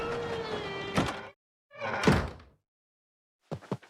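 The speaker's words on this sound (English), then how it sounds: "This is this area's lab door." A lab door in the video game Paper Mario The Origami King slides and thunks shut in two bursts, followed by a few quick clicks, crisp and close with silent gaps between.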